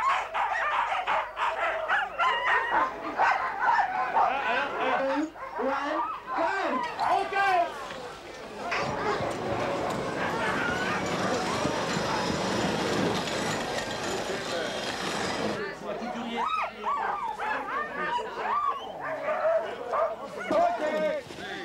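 Sled dogs at the Alpirod sled dog race in Europe bark and yip excitedly in a dense, continuous chorus, with a noisy crowd-like wash swelling in the middle.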